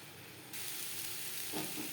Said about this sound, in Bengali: নারকেলের সাথে ডাঁটা আরও 3-4 মিনিট মিডিয়াম ফ্লেমে নাড়াচাড়া করব